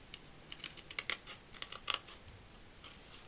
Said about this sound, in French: Donc là, on va couper celui en craft.